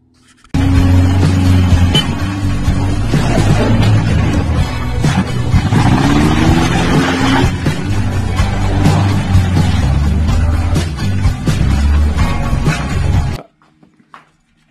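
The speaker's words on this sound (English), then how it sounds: "we turned the key on the Trash Panda after ripping out that motor and taking the motor from that tracker and putting it in here" A Geo Tracker engine, newly swapped into another vehicle and running with no exhaust, starts and runs loud and raw at close range for about thirteen seconds with rough, uneven revving, then cuts off abruptly into near silence.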